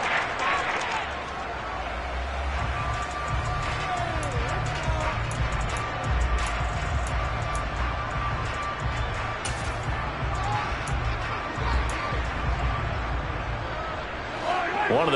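Stadium crowd at an Eagles football game in the fourth quarter, a steady roar of cheering and chatter building ahead of a big third down, loud and continuous throughout.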